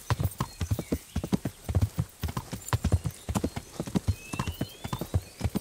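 Horse hooves clip-clop in a steady, rapid rhythm while riding in the medieval role-playing game Kingdom Come: Deliverance, loud and continuous with a faint whinny-like tone drifting above.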